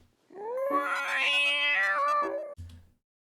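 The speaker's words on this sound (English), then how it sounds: "But wait, his is meowing." A cartoon cat's long meow, rising then held with a bright, strained wavering tone before breaking off, followed by a short low grunt and silence; loud and close with nothing else beneath.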